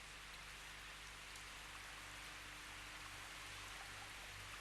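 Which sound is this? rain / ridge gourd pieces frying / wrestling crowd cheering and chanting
rain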